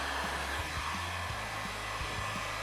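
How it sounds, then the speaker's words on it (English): Steady, loud blowing roar of a heat gun warming a plastic skeleton spine so it can bend, continuous and close with faint low thumps beneath. "his spine bends pretty easily using a heat gun. So that's what we're gonna do."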